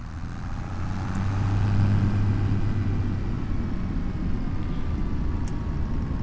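A tractor in Farming Simulator 25 runs in four-high, its engine holding a steady droning hum that swells slightly then stays even, with no talk over it.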